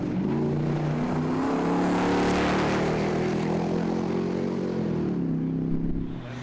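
Rally cars roar past on a tarmac stage of the Targa NZ rally, with loud, sustained engine drone that shifts in pitch as the cars pass close by.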